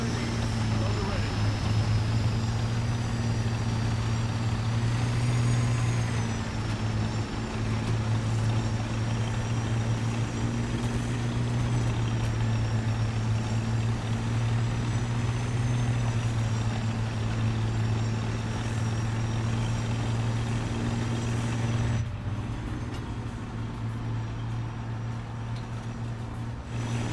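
A helicopter rotor spins up in the War Thunder video game, a steady droning hum with a constant low throb throughout, while a person talks over it now and then.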